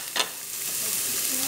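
White onion dropped into hot olive oil gives a quick clink and rush, then settles into a steady close sizzle for the rest of the moment.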